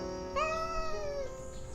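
A single drawn-out cat-like meow voiced by an anime schoolgirl character, a human voice imitating a cat, rising then gently falling over about a second, clear and close.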